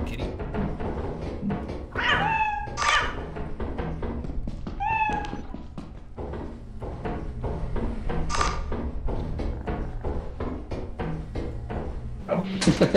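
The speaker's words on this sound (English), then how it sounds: "Oh my god, a cat!" A cat in the video game Lethal Company meows several times, with a pair of clear meows early and another later, amid thumps and clunks of in-game activity and scattered background sounds.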